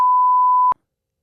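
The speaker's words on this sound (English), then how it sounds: "We can beep it out." A single censor beep: one steady, clean electronic tone held for about three quarters of a second, loud and alone, then cut off abruptly into silence.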